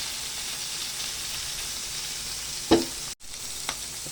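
Boiled pork is sautéed in a pan with fried tofu and black beans, giving a steady close sizzle with a couple of brief stirring clacks and a momentary dropout.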